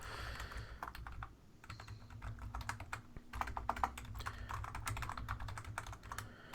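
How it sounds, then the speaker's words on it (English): Rapid typing on a computer keyboard, a dense run of close, sharp key clicks with brief pauses, quiet and without talk. "Thank God I type fast."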